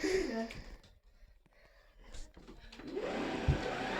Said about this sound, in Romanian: iar dau drumul la aspirator